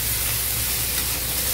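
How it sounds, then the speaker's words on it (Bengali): Dhenki greens fry in a pan with a dense, steady sizzle, an unbroken close hiss of oil lasting just over a second with no voices. "মাংস রান্না চলছে আর তার সাথে আমাদের এদিকে চলছে ঢেঁকি শাক ভাজা।"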